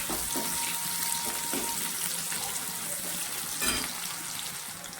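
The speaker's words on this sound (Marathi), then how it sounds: "त्याला तळून तेलामध्ये फ्राय करून घेते" Chopped onion frying in oil in a home kitchen pan, a steady soft sizzle that runs continuously with a faint occasional clink, moderately quiet and close.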